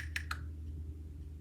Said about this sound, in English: I just typed in poetic words